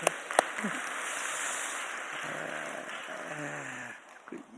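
A church congregation claps together at an Easter Sunday service, a dense, even patter of applause that holds steady before thinning out, with a voice briefly heard near the end.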